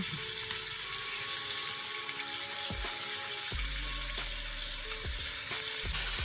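Katla fish sizzling as it drops into hot oil in a kadai, a steady loud frying hiss with bubbling and a few sharper crackles and spits, no talking.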